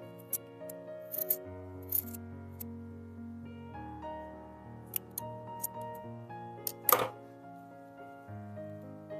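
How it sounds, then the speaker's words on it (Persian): Scissors trim the corner of sewn fabric while making a garment, giving several crisp, separate snips over soft background music. "گوشه کار رو قیچی میکنیم که کارمون سبک بشه"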